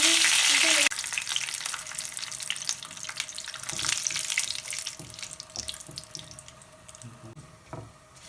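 Curry leaves crackle and sizzle in hot oil for a tarka, a steady frying hiss with brief pops, after a short burst of louder water-like noise at the start.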